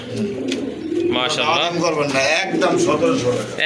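A pair of pigeons coos in low, rolling phrases close by, with people talking over the birds throughout.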